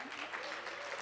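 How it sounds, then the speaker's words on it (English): Audience applause for the Tamil Nadu finance minister at a public event, a steady dense clapping from a crowd filling the whole moment, moderately loud and continuous. "It's nice when a political leader gets that kind of automatic claps,"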